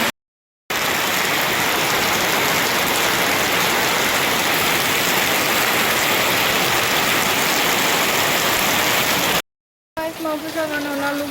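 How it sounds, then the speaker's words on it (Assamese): Heavy rain pours steadily outside, a dense, loud, unbroken hiss of drops hitting surfaces, briefly cutting out near the end before a short stretch of quieter ambience. "বাহিৰত বহুত বেছি বৰষুণ দি আছে"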